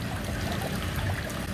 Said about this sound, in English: feeling the water trickling through our fingers